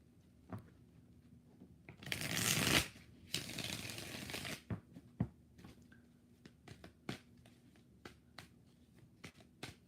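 Tarot cards shuffled during a live reading: a long dense riffle and bridge lasting a couple of seconds, followed by a string of sharp, separate card taps and flicks, close and fairly quiet with no talking.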